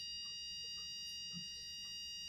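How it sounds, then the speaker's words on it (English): An electronic alarm goes off during a guitar lesson, holding a faint, steady high-pitched tone throughout with no voices over it. "Hold on, I gotta shut an alarm off here in the middle of my lesson."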